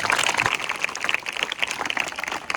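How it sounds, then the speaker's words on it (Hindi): Dense, continuous applause from an audience of schoolgirls at a legal awareness program in a government girls' senior secondary school, many hands clapping fast and unevenly at a steady, fairly loud level. "क्या आपका तालियां बजाने का मन नहीं कर रहा है?"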